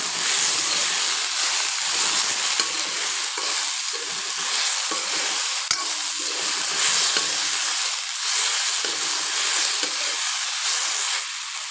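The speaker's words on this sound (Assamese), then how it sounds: "মই কচুখিনি আকৌ এবাৰ ভালকে লৰাই লৈছো" Taro is stirred as it fries in a pan for a curry, giving a steady, loud hiss of sizzling oil under the continuous scrape and clatter of a spatula throughout, with no talking.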